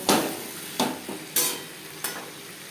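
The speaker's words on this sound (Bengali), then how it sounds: "আলুর সাথে বেশ ভালো করে মিক্স করে দেব।" A spoon stirs tomatoes, onions and potatoes in a pan for pangas fish curry, giving four quick scraping strokes over a light sizzle, close and clear.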